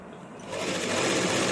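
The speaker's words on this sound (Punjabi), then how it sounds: "ਫਿਰ ਮਸ਼ੀਨ ਚਲਾ ਚਲਾ ਕੇ ਸਾਰੇ ਕੱਪੜਾ ਆਪਾਂ ਫੋਲਡ ਕਰ ਲੈਣਾ" An electric sewing machine stitches a shirt, starting up quickly and settling into a loud, close, continuous whirring buzz with no talk.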